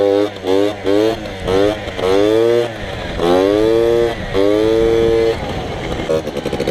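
A moped engine revving up and dropping back repeatedly during wheelie practice, close and loud with rising and falling pitch in short bursts separated by brief pauses.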